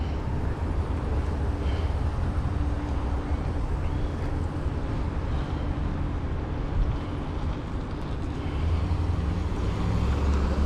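An Arrma Infraction RC street car accelerates hard and slides sideways, giving a steady, loud rush of motor and tire noise close by that stays continuous throughout with no talking.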